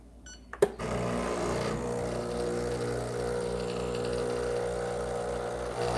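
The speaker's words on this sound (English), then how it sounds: "So this is built-in grinder, okay?" A Breville Barista espresso machine's built-in grinder grinding coffee beans, a steady close motor whir that starts after a brief clunk and runs continuously to the end.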